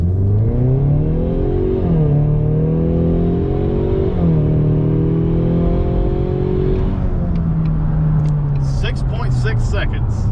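A 2020 Ford Mustang EcoBoost with a four-cylinder engine accelerating hard from 0 to 60 on a slightly uphill highway, engine rising in pitch through gear shifts with brief dips between them, loud and close, ending in a quieter cruise.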